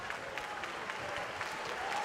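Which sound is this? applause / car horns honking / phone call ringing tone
applause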